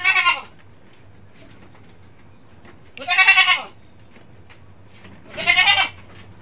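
Goats on a farm, including red and black Anglo-Nubian types, bleat three times in loud, wavering calls spaced a few seconds apart, with quiet background between them.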